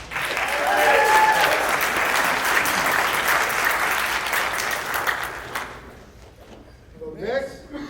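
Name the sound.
audience applause for a performer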